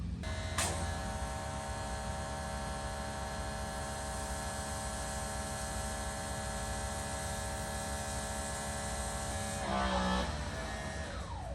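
Greenworks Pro 3000 psi electric pressure washer running with the soap nozzle fitted, a steady loud motor whine and hum holding constant throughout, with a brief click near the start and a short change in tone near the end.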